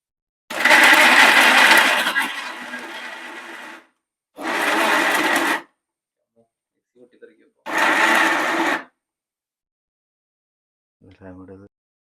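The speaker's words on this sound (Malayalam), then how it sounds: "നമ്മൾ മിക്സിയിൽ നമ്മൾ അരച്ചെടുക്കുന്നു" An electric mixer grinder grinding chicken whirs loudly in three separate bursts with silent pauses between, the first run longest and winding down before stopping.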